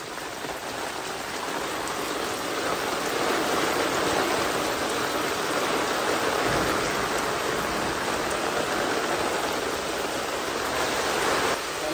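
Rain begins falling in the Konkan countryside, a steady, even wash of drops on surfaces that holds at a moderate level throughout without any voices.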